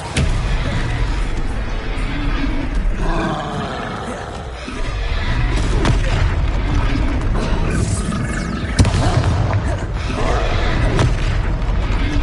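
Booming, roaring magic blasts and impacts from spells cast in a Hogwarts video game fill the scene continuously and loudly, with a sharp hit partway through and shouted incantations over the top.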